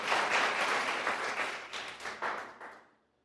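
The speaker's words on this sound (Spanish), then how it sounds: "Denle un aplauso." Church congregation applauding: bright, dense clapping fills the room, loudest at first, then breaks into uneven surges before trailing off to silence at the end.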